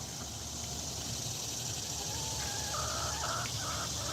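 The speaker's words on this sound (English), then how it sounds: "That's what the noise chickens make when they got an egg to lay." A hen clucks in a repeated, drawn-out pattern before laying an egg, with other bird calls in a steady noisy farmyard background.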